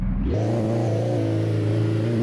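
Diesel Toyota Hilux with a 2GD engine revving up from idle, a loud, close, steady mechanical roar that climbs quickly and then holds at raised revs with a strong low rumble, no talking over it.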